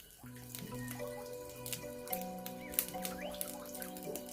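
Leafy greens, likely watercress, rinsed under running tap water at a sink for a Sundanese home meal, with a steady splash and scattered drips while soft background music plays.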